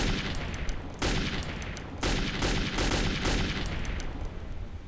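Sustained AK rifle gunfire from the Metro 2033 video game, loud dense fusillade with repeated sharp shots in bursts separated by brief breaks, close and continuous throughout.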